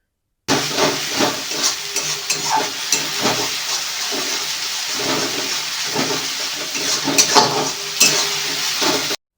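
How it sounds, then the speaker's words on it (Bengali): Onion paste going into hot oil with whole spices, giving a loud sizzling hiss with bursts of crackle and stirring noises that stay fairly steady throughout. "এবার ওই তেলের মধ্যে দিতে হবে পেঁয়াজ বাটা।"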